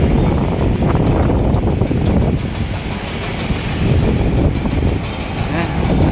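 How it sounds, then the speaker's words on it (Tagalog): Strong wind blowing at Manila Bay along the baywalk: a loud, steady roar of gusts buffeting the microphone throughout, with rumbling low noise and no clear pauses. "medyo malakas na yung ano, ihip ng hangin ah"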